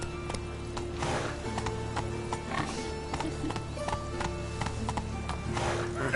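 Hooves of Roach, Geralt's horse in the video game The Witcher 3, clip-clop in a steady trotting rhythm over continuous in-game ambience and music, moderately loud and close.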